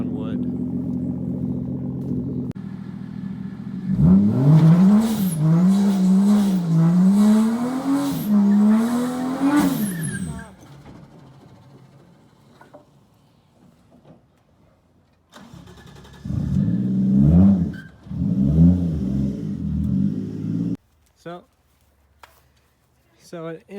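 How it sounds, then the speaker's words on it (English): A car with an R154 gearbox and short shifter revs hard while spinning its tire on a wooden surface, a loud rising and falling engine howl for about six seconds, then a quieter pause and a second shorter burst of revving. "see if we can do a burnout on wood"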